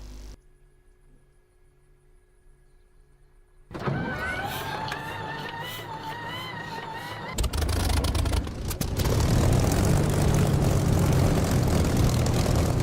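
An aircraft engine in the DCS flight simulator starts after quiet idle, rising into a loud, steady droning roar that grows stronger in stages and holds at full power, with no voices.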